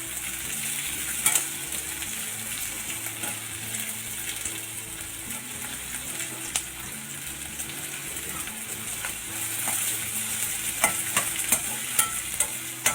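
Onions and other ingredients for chana masala frying toward golden brown in a pan, a continuous close sizzle with a spatula stirring and scraping, occasional sharp clicks and pops.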